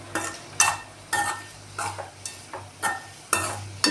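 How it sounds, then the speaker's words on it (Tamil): Dried anchovies fried with garlic in a pan are stirred with a spoon, giving about seven sharp scraping strokes at an uneven rhythm over a steady sizzle. "பிறகு இதை நல்லா கிண்டி விட்டுட்டு பூண்டு வேறு போட்டிருக்கிறதுனால நல்ல வாசமாக இருக்குது."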